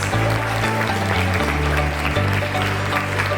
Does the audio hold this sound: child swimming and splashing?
no